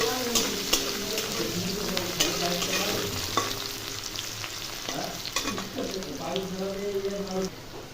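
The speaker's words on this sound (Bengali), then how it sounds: "পেঁয়াজ কুচি দিয়ে দিলাম, লঙ্কাগুলোকে ভেজে নেব।" Chopped onion and chilies fry in a pan with a steady sizzle, overlaid with repeated scraping clinks of stirring at close range.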